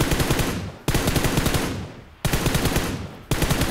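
Automatic weapon spray fire in PUBG Mobile, loud rapid bursts of gunshots in several long strings separated by short breaks, with no voices.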